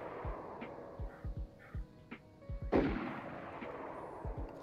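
Distant gunfire in the game Nyheim, scattered low booming shots at irregular intervals, with one louder crack partway through over a steady background hum.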